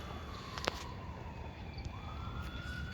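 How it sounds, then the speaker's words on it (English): Fire truck sirens approaching during an alarm near a railway, a faint distant wailing tone drifting in pitch beneath steady background rumble, with a few brief sharper noises. "It looks like I hear more fire trucks coming."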